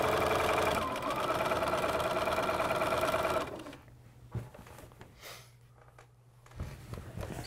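Sewing machine stitching a fabric hem, a fast steady mechanical whir running for about three seconds, then stopping, followed by quieter handling noises and a brief short burst of stitching.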